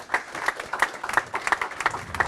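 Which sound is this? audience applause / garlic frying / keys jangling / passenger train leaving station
audience applause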